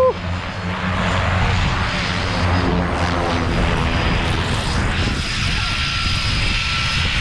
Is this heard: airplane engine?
yes